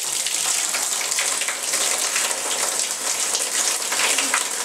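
Water pours steadily from a homemade waterfall-style spout into a bathtub, a continuous close splashing rush with no pauses and no voices.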